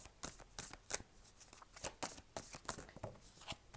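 Oracle cards being handled and shuffled while three are drawn, some sticking together: a run of close, crisp papery flicks and slaps in an irregular rhythm, with no voice over them.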